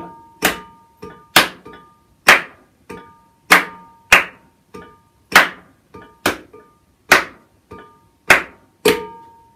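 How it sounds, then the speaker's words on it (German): Hands clapping a 3-2 son clave rhythm, sharp dry claps in a repeating pattern of three then two, with a faint ringing tone underneath. "ich zähle vier Schläge im Takt und klatsche dazu den Son-Clave 3-2"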